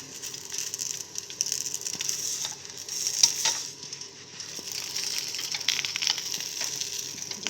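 An egg cooks in a hot pan, giving a steady, close sizzle and crackle of frying that runs without a break, with faint scrapes mixed in and no talking.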